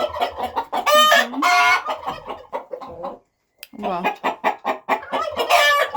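Hens cluck and squawk loudly up close in a lively burst, with a brief pause before the agitated clucking resumes; a voice speaks briefly.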